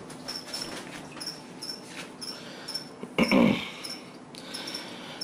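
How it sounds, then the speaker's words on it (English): Feeder crickets in a leopard gecko enclosure chirp in repeated short, high, faint trills at a steady pace, with a brief louder rustle or thump in the middle. "Now, they are fed crickets, and you can hear them going crazy in the background."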